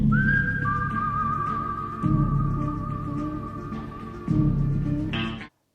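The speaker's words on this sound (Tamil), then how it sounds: "அந்த விசில் சத்தம் கேட்ட உடனே தேட்டரில் ஒரு வழக்கமாக கதாநாயகனை பார்த்து தான் நம்ம விசில் அடிப்போம்." Someone whistles one long, steady high note with a slight wobble for about five seconds, sounding close, while a lower background tone swells and drops twice.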